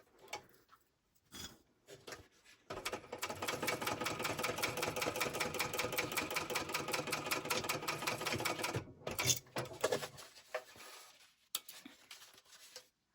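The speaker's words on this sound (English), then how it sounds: "Now I'm going to baste up the side." A sewing machine set to a long basting stitch runs a steady, rapid mechanical chatter up the side seam of a small fabric wallet, close and loud for several seconds, with brief pauses and clicks before and after.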